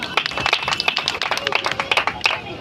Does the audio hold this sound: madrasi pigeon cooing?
no